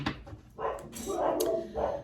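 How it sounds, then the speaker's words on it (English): Puppies bark and yip in short bursts indoors, fairly close, over a steady background of someone talking. "I apologize for my puppies barking."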